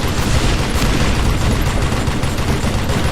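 Explosions and rapid gunfire from the comic-style Western shooter Call of Juarez: Gunslinger, a dense, loud, unbroken barrage of shots and booms with no voices.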